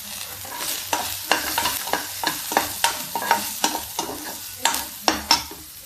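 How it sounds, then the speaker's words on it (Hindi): Garlic and onion fry in a pan, a steady sizzle broken by sharp, regular scraping strikes of a spoon stirring about every half second, close and fairly loud. "ये देखिए लहसुन, प्याज। अब इसको हम फ्राई करेंगे"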